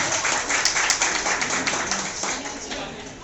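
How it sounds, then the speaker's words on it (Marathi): A crowd at a school alumni reunion in Ambernath claps together in a dense burst of applause that gradually fades toward the end, with no talking over it. "एकदा जोरदार टाळ्या"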